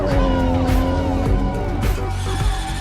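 A loud drift car engine roars steadily with tires squealing and skidding on pavement, sustained and close throughout.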